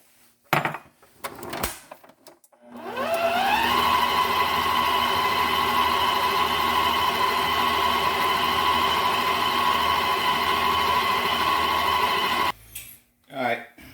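A stand mixer runs on second speed, beating eggs into pound cake batter. The motor spins up to a steady loud whir with a rhythmic beater churn, then cuts off, with brief clatter before and after.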